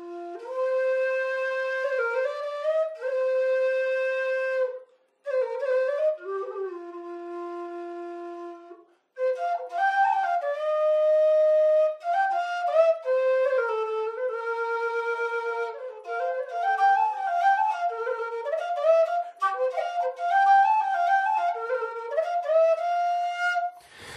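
An F tin whistle plays a solo tune, its clear, pure notes moving through a melody in phrases, some quick runs and some slower held notes with short breaths between them.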